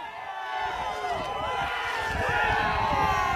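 Rowdy crowd of protesters streaming through moved barricades at the Capitol, a dense, steady roar of many overlapping voices and shouts from close by, swelling slightly louder toward the end.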